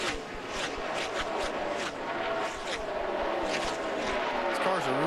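NASCAR stock cars at the 2007 Busch Series race scream past on the track, a continuous high engine roar with passing pitch sweeps, heard under a commentator's voice.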